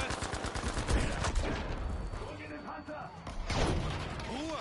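Gunfire crackles in the video game The Last Tiger, with a burst of rapid shots followed by a sharp ricocheting ping and further reports, loud and close, while voices shout over the action.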